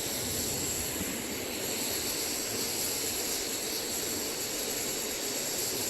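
A portable camping stove burner roars steadily, close and constant like a small jet, a broad hiss-laden rush lasting the whole stretch without talk.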